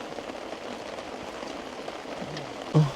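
Steady rain falls during a fishing trip, a continuous soft hiss of drops on surfaces, even and moderately quiet throughout, with a brief louder knock near the end.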